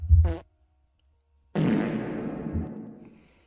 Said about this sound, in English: We have two different farts.